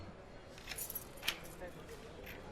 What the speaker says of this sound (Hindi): चाबी का गुच्छा ताला खोलने में छनक गया है।